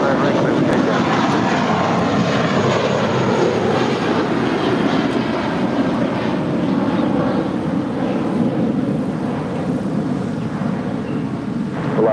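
An airliner roars down runway 25 right at LAX on takeoff, a broad steady jet engine rumble heard from a distance throughout, with faint radio voices underneath.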